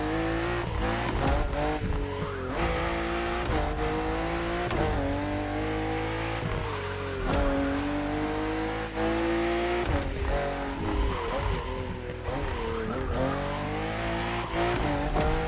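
A BMW M4 CSL in the video game The Crew Motorfest roars through repeated gear shifts, revving up and down with tire squeals, loud and continuous with no voices.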